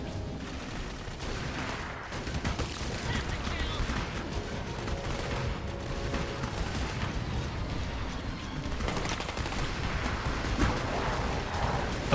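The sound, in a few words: pistol gunfire in video game Clive Barker's Jericho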